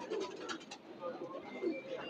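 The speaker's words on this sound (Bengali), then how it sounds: "এই দেখেন কবুতর কত সুন্দর" Pigeons cooing at a busy pigeon market, low throaty coos rising a few times over a light background of crowd noise and scratching.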